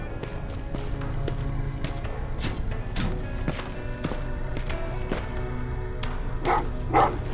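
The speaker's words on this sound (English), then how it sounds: "Oh, what's with the dogs?" Dogs bark repeatedly in the video game Terminator: Resistance, a steady run of mid-distance barks over a constant ambient game soundscape, with no talking.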